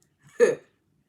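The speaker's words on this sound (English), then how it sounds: "excuse me, I know I had to burp." A single short burp from a person, close and clear, standing alone against silence.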